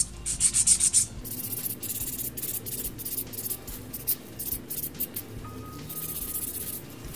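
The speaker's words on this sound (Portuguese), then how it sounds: "agora vou finalizar com a lixa" A nail file rubs back and forth over an artificial nail tip in a steady run of short, gritty scratching strokes, close and fairly loud, with no talking.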